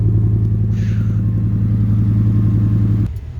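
Truck with a cat delete, Magnaflow exhaust and performance tune idling with a loud, steady low rumble close by, a brief higher rasp near the start, cutting off abruptly near the end.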